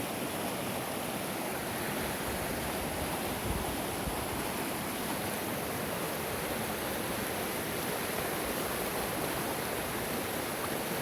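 Snowmelt water rushes in a Colorado state park, a loud, steady roar of flowing water that holds unbroken throughout with no voices.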